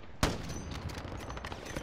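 Gunfire in Call of Duty Warzone opens with one sharp loud shot, followed by a rapid scatter of quieter shots and echoes through the rest of the brief moment.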